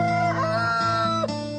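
A rooster crows in a long, loud harmonic call that stretches across the whole moment, close and dominant, with a rising and falling pitch contour.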